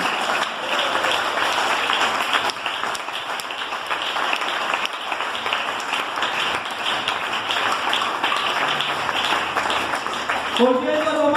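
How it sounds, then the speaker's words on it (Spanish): A church congregation applauds during a Spanish-language sermon: sustained, dense clapping from many hands, steady and fairly loud throughout, with a brief voice rising near the end. "Denle ese aplauso a Jesús."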